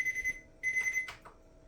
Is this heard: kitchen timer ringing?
yes